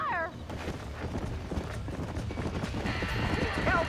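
Horses in a burning barn in Red Dead Redemption, panicked whinnies and stamping hooves beneath roaring fire and constant shouting voices, loud and close.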